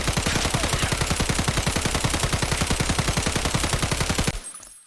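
An SA-58 rifle in the video game Escape from Tarkov fires full auto at a range at medium distance, a loud, rapid, steady stream of roughly forty shots over about four seconds before the burst stops abruptly.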